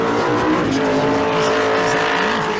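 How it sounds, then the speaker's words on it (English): Precision Turbo Pro Mod drag race cars on a racetrack, a loud continuous engine roar with shifting pitch and revving throughout, heavy and close. "13 cars have gone down the racetrack in Precision Turbo Pro Mod."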